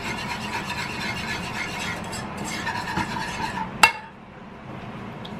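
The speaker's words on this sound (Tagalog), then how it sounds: "Haluin." Rice flour mixture stirred in a pot for Thai mango sticky rice, a continuous scraping, rasping swirl of utensil against the pan, ending with a sharp clink and quieter stirring afterward.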